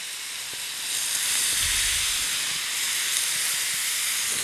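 Onions and mushrooms sauté in a stock-moistened pan, giving a steady, close hiss of sizzling and steam that swells after the first second and holds loud and even to the end, with no talk.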